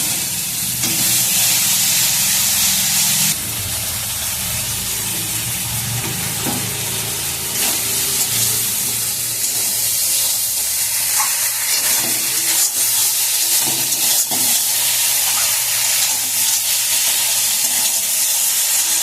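Mustard seeds, cumin and green chili paste sizzle steadily in a pan with a loud, continuous broadband hiss and crackle, punctuated by occasional stirring scrapes, with no voices over the whole stretch.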